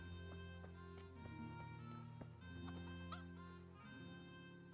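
Chickens cluck softly in the medieval video game Kingdom Come: Deliverance, with scattered short clucks over a sustained droning tonal background, faint and continuous.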